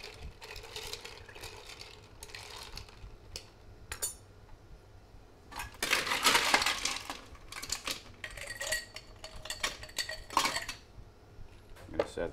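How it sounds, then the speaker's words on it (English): A spoon stirs a fruit tea cocktail with orange slices and fresh raspberries, making irregular glassy clinks and metallic clatter in bursts, loudest in a busy stretch midway, close and alone without talk. "give it a little stir"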